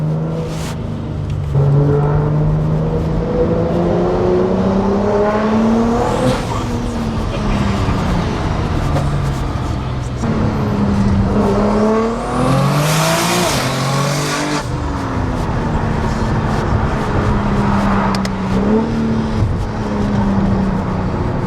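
A 1000 HP BMW G80 M3 accelerating hard, engine pitch climbing repeatedly and dropping at each choppy gear change, loud and close from inside the cabin, with brief voices in the car.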